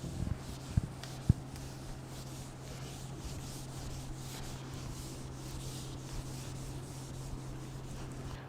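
A duster rubs across a classroom board in a steady, soft scraping swish that carries on for several seconds. Two sharp taps land near the start.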